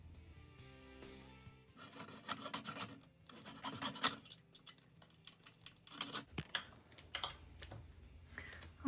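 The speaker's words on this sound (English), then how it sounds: "Try to keep the saw right in that line." Hand saw rasping through a die-cast 1:64 Maisto 1955 Chevy Bel Air model, with several bursts of quick back-and-forth scraping strokes, close and moderately loud, separated by short pauses.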